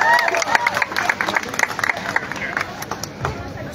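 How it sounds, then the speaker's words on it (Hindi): An audience at a live comedy show applauds, with scattered dense clapping and some crowd noise at moderate distance, fading a little toward the end. "दोनों के लिए जोरदार तालियां बजाइए"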